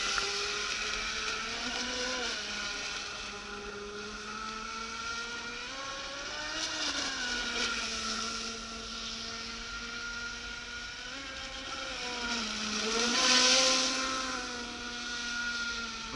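A Navicraft Rebel 12s RC boat running on a propeller test, its electric motor a steady high whine that rises and falls in pitch through turns, heard from a distance with no voices.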